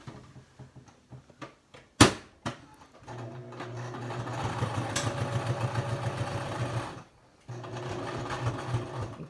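Sewing machine stitching down the pleats of a fitted fabric mask, running in a steady rapid whir for about four seconds, pausing briefly, then resuming, after a few light handling clicks and a sharp knock.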